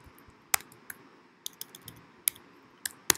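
Someone types on a computer keyboard in a quiet room, with sparse, crisp key clicks coming in irregular single taps and short bursts, close and fairly soft.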